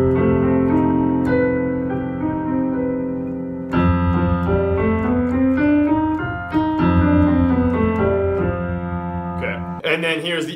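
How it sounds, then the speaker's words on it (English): An F Lydian dominant scale played against a sustained dominant 7 sharp 11 chord, the melodic notes stepping upward and back down over held harmony, close and fairly loud, ending with a short bright burst. "that scale goes very well with the common dominant 7 sharp 11 chord, and that sounds like this."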